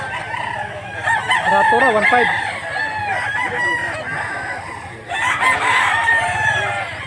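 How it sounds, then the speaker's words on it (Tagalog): A stag rooster, a young gamecock, crows loudly and close, with clucking from other fowl nearby and someone talking over parts of it. "Manok ni tatay guys, stag."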